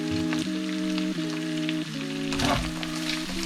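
Diced pancetta browning in a pan sizzles loudly and continuously, while stirring adds a brief scraping swell near the middle. No one speaks.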